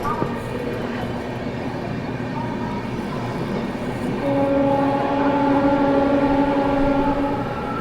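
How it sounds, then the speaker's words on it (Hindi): The West Bengal Sampark Kranti express runs through Prayagraj Junction without stopping, a continuous rumble of rolling wheels joined midway by long steady horn tones that hold for several seconds at close range. "यहाँ पर ट्रेन जो है अपनी प्रयागराज जंक्शन स्किप कर रही है"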